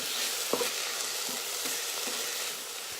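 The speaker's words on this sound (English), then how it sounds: "We're gonna get the rest of this meat brown." Lean ground meat browns in a pan for cheeseburger soup. It gives off a steady close sizzle and frying hiss, with a few soft scrapes of stirring and no talk.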